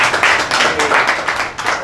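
Applause from a Hindi poetry mushaira audience, a dense, steady wash of many hands clapping at once, loud and close, with no break for about two seconds.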